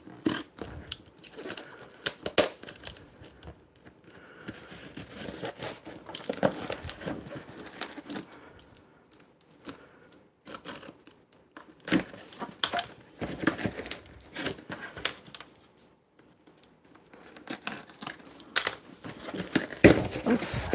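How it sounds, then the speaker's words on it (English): Bubble wrap and taped-up packaging are handled and pulled open, giving a steady stream of close crinkling, rustling and crackling with short pauses and no clear talk. "see the bubble wrap?"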